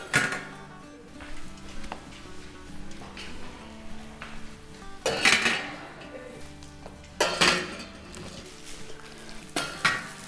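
Dishes, plates and cutlery being brought and handled at an Eid dinner gathering: intermittent sharp clinks and clatters, several louder bursts over a quieter background of soft handling noise, close by with no talking.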